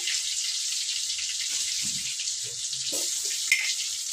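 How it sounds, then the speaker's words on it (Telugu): Curry leaves and tomato sizzling in very hot oil, a loud hissing fry held close throughout with a few low stirring bumps and one sharp crackle. "బాగా వేడి అయిపోయింది అలాగే కరేపాకు టమాటా కూడా వేసేసినాను"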